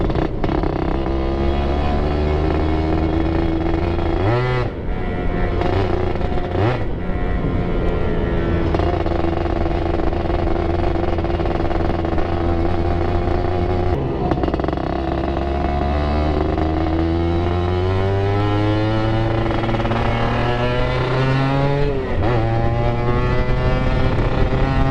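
A Suzuki Satria 120R motorcycle fitted with an aftermarket exhaust revs steadily and loudly up close, its engine note rising and falling across several throttle blips, with no talking over it.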